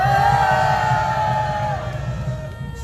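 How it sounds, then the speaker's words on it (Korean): A crowd at a political rally for the Korean Party cheers and shouts loudly and continuously, with whoops over a steady rumble of voices and music tones underneath. "허평한 장군님 큰 박수로 모셔보겠습니다"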